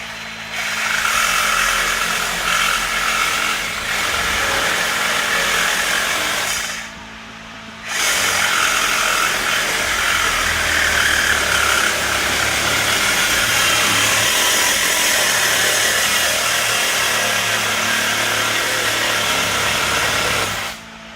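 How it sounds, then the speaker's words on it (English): A battery-powered reciprocating saw cuts the mufflers off a 1964 Ford Thunderbird during a rear air ride install. The harsh, buzzing cut runs continuously at close range, with one short pause partway through. "he's got the trusty battery powered reciprocating saw in there now. And cut those mufflers off"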